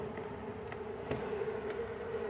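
Honey bees hum at a hive entrance, a soft continuous close buzz holding steady with a few brief brighter flicks of a passing insect, no voices.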